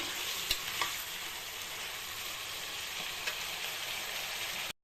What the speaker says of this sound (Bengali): চার পাঁচটা মতো কাঁচা লঙ্কা দিয়ে দেবো এটা একটু ভালো করে কষিয়ে নিই